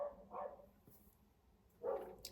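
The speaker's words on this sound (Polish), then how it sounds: "Psy krzyczą." Dogs bark indoors in a few short, faint bursts: a pair of quick yaps at the start, a pause, then another bark with a high yip near the end.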